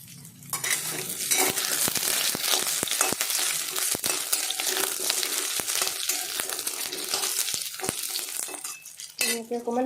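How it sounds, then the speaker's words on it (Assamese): Chopped taro pieces fry and sizzle in hot oil in a home kitchen pan, a steady close crackle with repeated scraping stirs and clinks of a utensil against the pan throughout. "এনেকৈ অকণমান ভাজি লওঁ কচুখিনি।"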